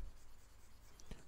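Soft, faint scratching of a coloring pen drawing on paper during a geometry lesson, a quiet continuous stroke with a small tap near the end.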